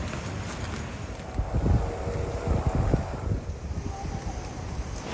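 Rushing water approaches near the Poço Fundo waterfall on Ilhabela, on the São Paulo coast: a steady broadband wash with wind buffeting the microphone and a few low rumbling surges, fairly loud and with no talk.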